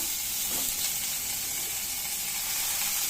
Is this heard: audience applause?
no